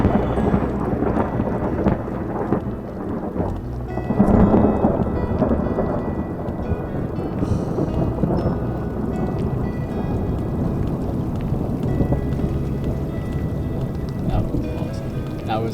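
Thunder rolls and rumbles loudly and almost continuously through a thunderstorm in the Yukon, with heavy rain pattering underneath and a voice speaking briefly.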